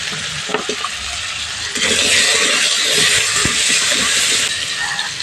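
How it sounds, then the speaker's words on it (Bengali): Potatoes fry in oil in a wok, a loud, dense sizzle that swells partway through, with faint stirring knocks underneath and no talking. "আলুটা একটু ভেজে নেব আলুগুলো হালকা করে ভেজে নিয়েছি"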